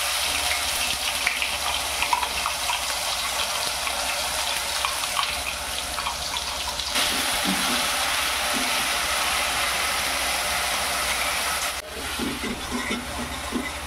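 Onion paste sizzles and fries steadily in a hot pan with whole spices for chicken rassa, a close, continuous hiss with occasional stirring scrapes and no voices.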